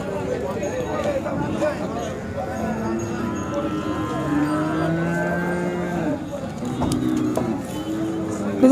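Khillar cows lowing at a cattle market in Sangola, with several drawn-out moos rising over nearby people talking and general market bustle.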